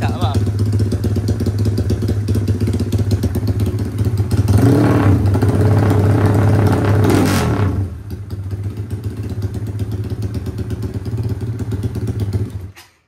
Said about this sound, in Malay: Sambil-sambil tunggu kering ni aku panas enjin dulu lah sebab dah lama motor ni siap.